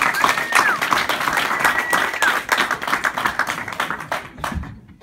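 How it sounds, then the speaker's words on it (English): A comedy club audience bursts into a dense wave of clapping for the host, loud and sustained for several seconds before thinning out, with cheers and voices mixed in. "big round of applause for Jonathan Tilson, everybody."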